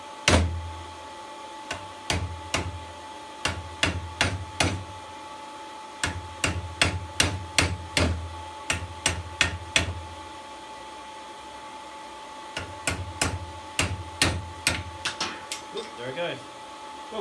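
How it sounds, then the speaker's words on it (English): Blacksmith's hammer striking hot metal on an anvil while forging a beginner wall hook, sharp metallic ringing blows in steady bursts of several strikes, separated by short pauses, close and clear with no talk. "I know it takes away a lot of the efficiency of the hammer blow, but it does get through the metal."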